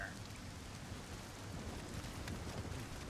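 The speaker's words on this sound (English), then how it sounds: "you can hear the rain because it's right on the other side of the wall" Rain and wind fill the background of an indoor area in the video game Nioh, with the rain beyond a wall. A faint, steady hiss of rainfall and wind holds for a few seconds with no talk.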